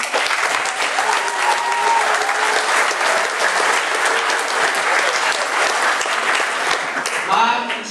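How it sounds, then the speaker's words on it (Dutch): A large crowd applauds steadily at a school graduation ceremony in a hall, the clapping loud and sustained throughout, with some voices under it near the end. "een gigantische applaus voor jullie."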